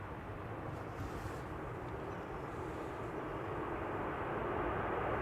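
A United Airlines airliner bound for Houston takes off at Amsterdam Schiphol, heard as a steady, broad jet-engine roar that swells slightly toward the end, with no talk over it.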